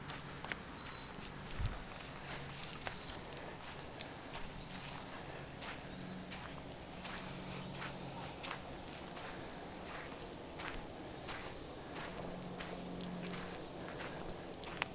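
A dog whimpers faintly on an outdoor walk, small high whines recurring over steady background noise, with light footstep-like taps throughout.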